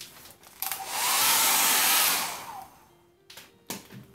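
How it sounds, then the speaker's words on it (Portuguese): A hair dryer drying paint on a decorative MDF plaque, switching on with a loud, steady close-up rush of air for about two seconds before winding down, with a few knocks and handling sounds around it. "Depois de usar o secador ou o soprador"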